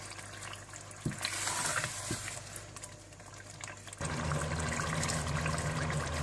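A spoon stirs yogurt into sizzling masala in a pan, with a close, steady frying hiss broken by a few clinks and scrapes, then a louder burst of sizzling as the stirring continues.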